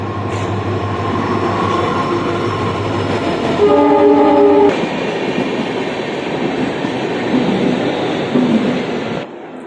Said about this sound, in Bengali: ট্রেন আসছে ট্রেন